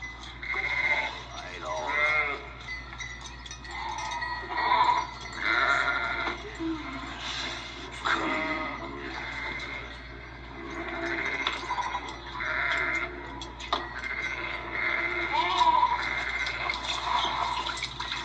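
Sheep and goats bleat repeatedly in the background while people talk over them, with a low steady hum throughout.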